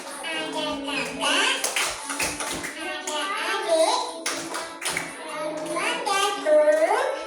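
Young children chant in a classroom family clapping game, their voices nearly constant, with a few sharp handclaps breaking through the singing in short bursts.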